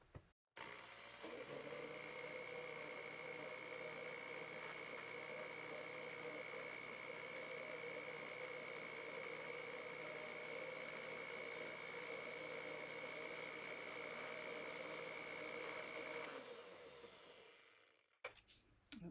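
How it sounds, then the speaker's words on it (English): A blender running on low dissolving dye print paste gives a steady motor hum with a constant whine for about sixteen seconds, then winds down and stops, followed by a couple of clicks. "I only run the blender long enough to get this dissolved"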